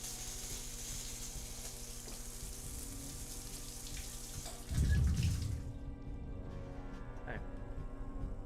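Shower water running steadily in Deus Ex: Invisible War, a constant hiss throughout, joined briefly by a louder low splash and clatter midway before the spray cuts off.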